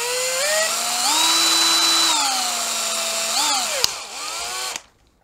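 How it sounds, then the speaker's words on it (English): A close electric drill whines steadily for about four seconds, drilling a small hole for sensor wires, its pitch rising and dipping as it bites, then spins down and stops. "let's drill a small hole in the side of this for the piezo sensor wires"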